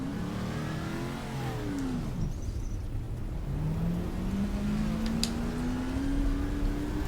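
Race car engine accelerating hard in first gear in the GTR2 racing game, a loud revving roar that climbs in pitch, drops briefly at a shift, then climbs steadily again.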